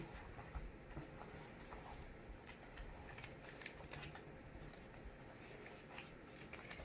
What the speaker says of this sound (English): have your tape ready. So I'm going to go ahead and get off a few pieces here